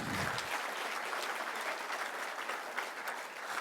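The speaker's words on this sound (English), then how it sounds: "Please give her a round of applause." A crowd at the launch of the Beyond Zero half marathon in Kenya claps in warm, sustained applause that stays loud and even throughout.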